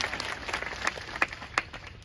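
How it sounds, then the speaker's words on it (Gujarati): Applause from an audience at a farmers' gathering outside the Junagadh collector's office, a loose spatter of claps with a few sharper hand strikes standing out, fairly faint and brief. "તાળીઓથી વધાવો"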